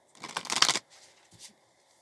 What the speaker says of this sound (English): Alright, so I'm going to give it one more shuffle.